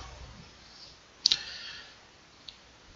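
Sharp mouse click on a save-to-PC button in an email program, one main double click near the middle and a fainter click later, close and clean over a quiet background.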